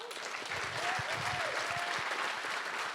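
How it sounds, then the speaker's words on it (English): Audience applause at a closing ceremony for a hackathon: steady clapping from a crowd, fairly distant and sustained for a few seconds. "give yourselves and our sponsors and our organizing team a round of applause"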